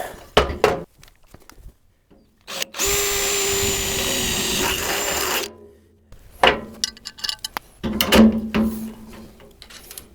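A power drill whines steadily for about three seconds drilling holes in a 55-gallon drum, preceded and followed by clunks, scrapes and handling knocks from tools.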